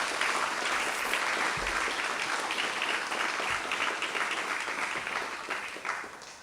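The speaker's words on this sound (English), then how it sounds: "Let's give Professor Cobley another round of applause." An audience at a Cave Hill history lecture gives Professor Cobley another round of applause, a full, steady roar of clapping that holds throughout and tapers slightly near the end.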